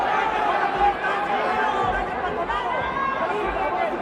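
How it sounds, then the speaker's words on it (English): Crowd noise fills the Poliforum Zamna arena in Mérida during a boxing fight, a dense, steady murmur of chatter and voices at moderate level, continuous throughout with no distinct peaks. "And the crowd inside of Poliforum Zamna making noise."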